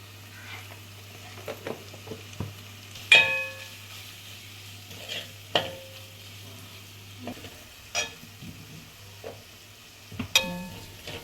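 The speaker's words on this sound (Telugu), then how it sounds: "మసాలా ఇప్పుడు బాగా వేగిపోయింది" Masala with ginger-garlic paste and coriander powder fries in a pan for Andhra-style mutton curry, with a soft continuous sizzle broken by scraping clicks and knocks as the spoon stirs, close and fairly quiet.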